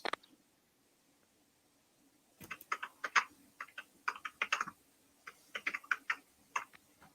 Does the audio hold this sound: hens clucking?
no